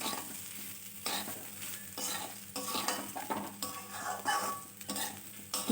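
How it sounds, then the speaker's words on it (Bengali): Rice and lentils being stir-fried with spices in oil for bhuna khichuri, a steady sizzle with repeated scraping stirs of a spoon against the pan, close and continuous. "চাল আর ডাল মশলা তেলের সাথে একটু ভালোভাবে নেড়ে চেড়ে ভেজে নিলে ভালো হয়।"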